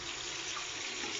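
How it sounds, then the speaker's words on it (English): Cold water pours from a sink faucet in a steady, even, close hiss-and-splash that fills the whole moment without change. "Now, while this faucet's running, you won't be able to hear me"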